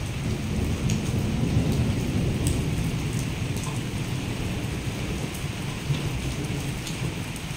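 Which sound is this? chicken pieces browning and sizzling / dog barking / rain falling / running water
rain falling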